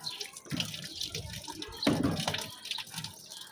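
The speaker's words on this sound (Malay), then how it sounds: "membasuhnya pula dengan air yang bersih" Hands being rinsed under a running tap, water splashing and gurgling unevenly at close range, with a louder gush midway and the flow continuing throughout.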